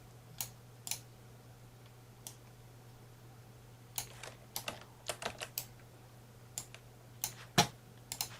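Key presses on a computer keyboard entering Ctrl+C and Ctrl+V copy-paste shortcuts, sparse close clicks arriving singly and in quick clusters over a quiet low hum.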